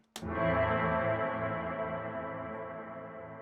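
Electric guitar chord through the electric plate reverb on a Quad Cortex processor, one sharp strummed attack followed by a lush, sustained tail that slowly fades over about three seconds.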